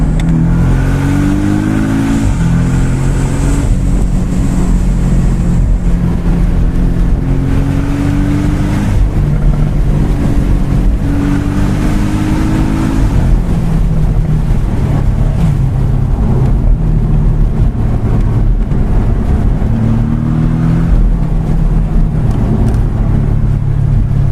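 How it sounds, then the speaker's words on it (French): Porsche Boxster 718 S with a 350 hp engine accelerating in repeated rising pulls, a loud, close, steady engine drone with climbing pitch sweeps as it runs up through the gears. "on va faire une petite accel encore là"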